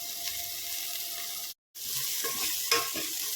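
Onion and tomato with salt are sautéed in a pan, giving a quiet, even sizzle with faint stirring scrapes, broken by a short silent gap partway through.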